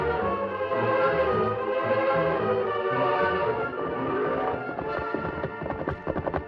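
Horses' hooves clip-clop in an old-time Western radio drama, a steady rhythmic trotting under a full music score, with an occasional whinny and the hoofbeats turning sharper and more distinct near the end.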